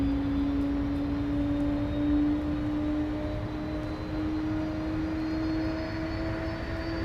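A steady aircraft engine hum drones on at Dallas Love Field on a rainy morning, its tone slowly rising as it revs, with a low rumble underneath and no voices.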